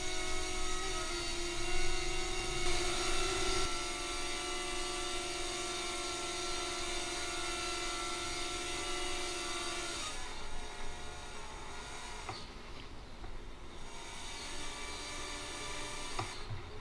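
In the Wings RC Racing Simulator video game, a simulated RC model aeroplane's engine whines with a sustained harmonic drone as it lands. The pitch steps down partway through and the engine grows rougher and quieter after about ten seconds, with no voices.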